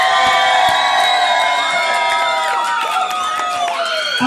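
A loud crowd cheers and whoops steadily, with high shouts and excited voices layered throughout.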